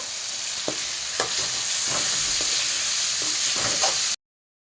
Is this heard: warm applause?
no